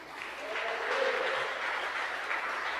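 A church congregation at a family worship service breaks into sustained applause, a dense and even wash of clapping that holds steady at moderate loudness throughout.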